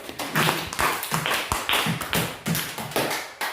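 A group in a classroom claps for the first team in a regular rhythmic pattern of sharp bursts, loud and close, with no voices.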